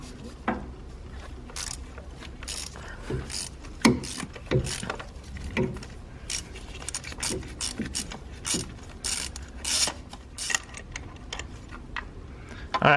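A ratchet with a 14 mm thin-wall deep socket loosens a spark plug on a 2017+ Nissan Rogue Sport, making repeated clicking pawl runs in uneven bursts up close over faint background noise.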